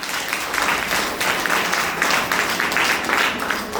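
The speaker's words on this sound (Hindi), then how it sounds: "ताली बजाओ" A crowd claps together in a dense, steady burst of applause, loud and close, lasting the few seconds without voices over it.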